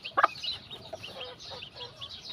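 Chickens at a game farm give a few soft clucks and a brief louder squawk near the start, then quieter scattered calls.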